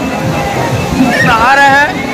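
Water sloshes and splashes steadily at a water park in Varanasi as people bathe, with crowd noise and nearby voices talking over it and a brief tonal whoop near the end.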